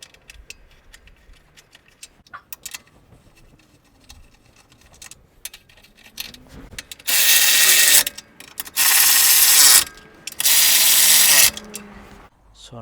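Transmission mount bolts are tightened on a Toyota Camry with a ratchet, first as faint clicks and fiddling, then three loud bursts of rapid, buzzing power-tool rattle close by.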